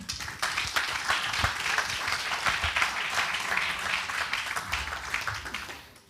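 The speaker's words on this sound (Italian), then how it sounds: "farei davvero un grande applauso a tutti loro" Sustained audience applause at a social report presentation, dense steady clapping from many hands lasting throughout, moderately loud with a faint voice underneath.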